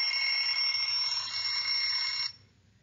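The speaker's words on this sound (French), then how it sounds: "le réveil sonne." A steady, shrill electronic alarm clock beeps continuously for about two seconds, then cuts off abruptly, leaving a faint quiet background.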